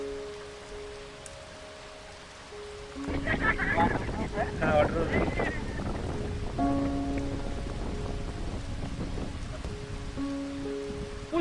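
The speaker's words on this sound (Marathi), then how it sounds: "मित्रांनो अचानक पाऊस चालू झालेला" Sudden rain starts falling at an outdoor spot, switching from quiet to a dense, steady hiss of drops a few seconds in, with faint voices underneath.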